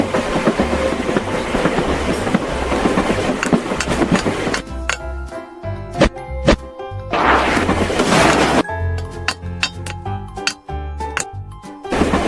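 A Train Eater monster train from a Choo Choo Charles-style video game rumbles and clatters loudly, with heavy rhythmic clanks, crashing hits and bursts of rolling noise throughout, with no talking.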